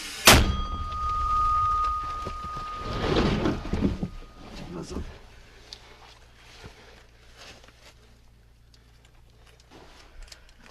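A single sharp, heavy artillery gunshot bursts out at the start, followed by rumbling and scattered thuds, with muffled voices in the background, near Toretsk during war.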